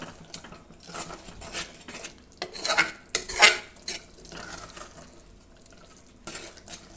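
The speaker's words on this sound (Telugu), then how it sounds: "వేయించి పౌడర్ చేసుకున్న పల్లి పౌడర్ వేసేసుకొని ఇదంతా బాగా మిక్స్ అయ్యేలాగా చేసేసుకొని" Cluster bean curry with peanut powder stirred in a pot, with uneven scraping and clinking of a metal spoon against the vessel and soft bubbling between strokes.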